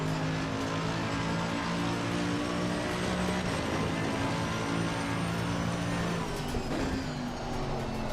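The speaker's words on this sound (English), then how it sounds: "Isn't it lovely hearing those chassis braking sounds?" A race car in the Assetto Corsa Competizione driving game roars loud and steady, its engine tone shifting as it brakes and downshifts, with faint chassis creaks under the engine.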